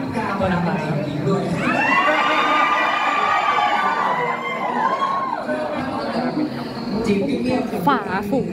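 A dense crowd of people at a cafe and gallery event, a steady close hubbub of many voices with a single voice talking over it nearby.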